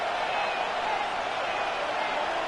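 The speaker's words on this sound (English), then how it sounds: "This crowd, they're trying to force a false start. What noise before 3rd and inches." Steady roar of a stadium crowd in the Madden 26 football video game, building noise before a 3rd-and-inches snap to force a false start; a dense, continuous wash of cheering with no clear breaks.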